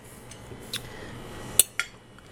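Metal forks and cutlery clink as someone rummages through a kitchen drawer, a few sharp, separate clatters over a quiet room.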